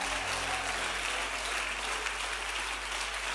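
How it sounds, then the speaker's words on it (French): Church congregation applauding loudly and steadily for a few seconds, a dense continuous wash of clapping filling the room with no clear voices over it. "que quelqu'un acclame le Seigneur"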